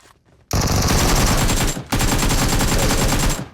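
Automatic gunfire in the mobile battle royale PUBG Mobile, two long loud bursts of rapid shots with a brief gap between them, close and dominant, no speech over it.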